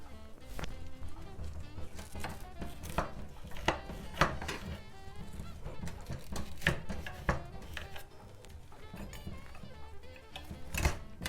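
A utensil cuts into a warm, sticky pecan pie in its pan, giving a string of close, sharp scrapes and clicks against the pan with irregular spacing and a few louder knocks.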